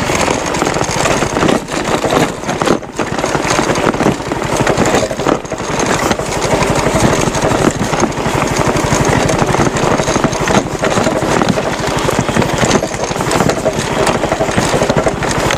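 A motorcycle engine labours on a badly damaged, rough road in Caloocan City, its loud continuous mid-pitched drone rising and dipping with throttle as the bike strains, with brief knocks and jolts throughout.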